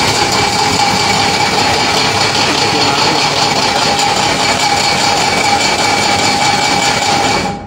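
A feed mill grinder runs continuously as a loud, steady mechanical roar with a high whine, holding constant and then cutting off abruptly at the very end.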